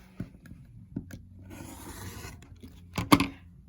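Quilt block fabric edges being trimmed: a few soft scrapes, then a short rasping cut and a sharper, louder scrape near the end, all close and fairly quiet.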